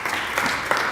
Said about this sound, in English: I just want to applaud this group right here